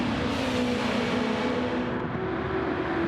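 A race car's engine drones steadily at high revs on the Red Bull Ring circuit in a racing video game, accelerating out of a corner with a dense, continuous whine and no gaps.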